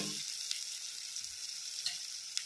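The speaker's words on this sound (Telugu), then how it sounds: "బబుల్స్ బాగా వస్తున్నాయి, వేగుతుంది" Oil sizzling and bubbling steadily in a pan ahead of chicken being fried, a constant bright crackle with a few soft clinks, close and with no talk.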